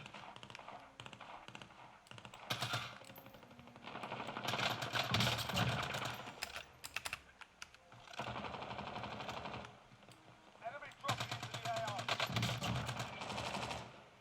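Gunfire from a gun in a video game played on an Acer XB253Q GW gaming monitor, in several rapid automatic bursts with pauses between them, fairly faint and mixed with clicking, with a voice talking at times.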